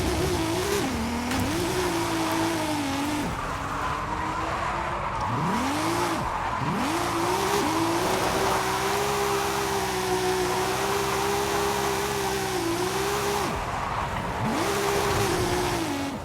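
A car drifting in the racing game Forza Horizon 5 revs loudly with a droning engine that rises and dips between gear changes, while tires squeal continuously through the slides.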